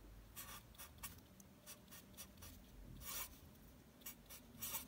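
Pen scratching across notebook paper in short, faint strokes, quiet and close with soft rubbing between marks.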